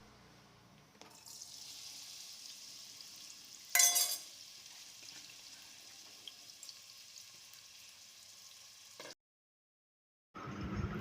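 A soft, steady sizzle of onions frying in hot oil in a pressure cooker runs for several seconds, with one louder burst of spattering partway through before it cuts off.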